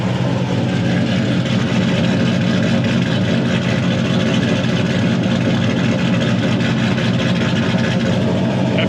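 A 2006 Ford Mustang engine idles loudly while still cold, a steady, deep, rumbling drone held close and constant with no other sounds over it.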